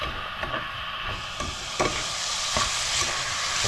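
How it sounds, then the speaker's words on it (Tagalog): A pot of native chicken tinola being stirred produces steady, close scraping and sloshing over a continuous hiss of steam and sizzle. Brief spoon knocks recur at regular intervals, and no one talks. "Atin ang haluin mga kapar."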